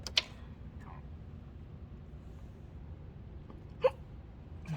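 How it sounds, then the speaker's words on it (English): Two sharp, short hiccups sound close to the mic, one at the start and another near the end, over a faint room hush, with no talk. "No, not the hiccups now."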